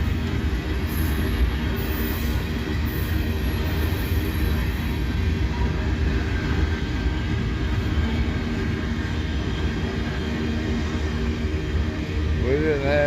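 A freight train of empty side dump cars rolls past nearby, a steady loud rumble of wheels and cars with a faint squeal rising near the end.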